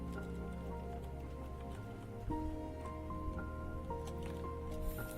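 Bubbling and dripping water from a Minecraft bubble column in a sulfur cube display build, a steady wet squishing and trickling texture with soft pops, continuous and close throughout.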